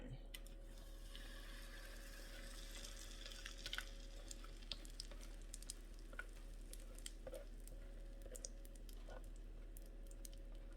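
Chili poured into a hot cast iron skillet gives a faint, steady sizzle with scattered small crackles and pops, quiet and close.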